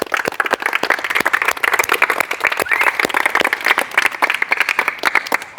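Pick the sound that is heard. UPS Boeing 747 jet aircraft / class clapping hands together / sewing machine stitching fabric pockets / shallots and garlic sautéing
class clapping hands together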